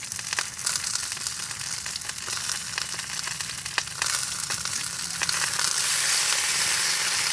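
A steak sears in a hot pan with a loud, steady sizzle and crackle that holds throughout and grows slightly fuller toward the end, with no talking.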